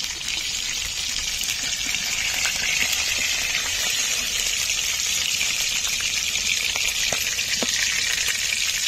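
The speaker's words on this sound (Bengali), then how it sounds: "এইভাবে কিন্তু মাছটা আমি ভেজে নিয়েছি।" Sea fish fries in a pan with a steady, dense sizzle and crackle that holds evenly throughout, close and without talk.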